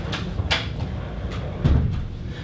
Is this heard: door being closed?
yes